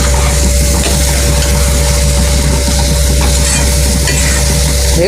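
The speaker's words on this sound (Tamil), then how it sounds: "நல்லா வதக்கிட்டு சுருளாக வதக்கிடணும்" Vegetables with capsicum sautéing in a home kitchen pan, a loud steady sizzle and scraping stir running continuously throughout, close and alone.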